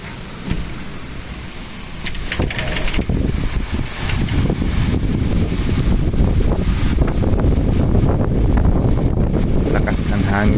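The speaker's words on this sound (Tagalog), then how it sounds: "Lakas ng hangin guys." Strong wind buffets the microphone outdoors during a storm with rain, a loud continuous roar and rumble that builds and stays heavy, while a person talks over it.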